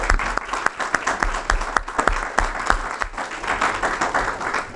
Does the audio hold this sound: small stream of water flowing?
no